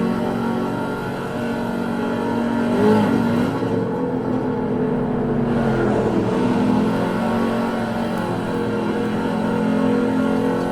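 A 1995 Ford SVT Cobra R on the Nürburgring Nordschleife, its engine droning loud and steady from up close while one side tire spins up, the whole sound a continuous rough roar with no talk.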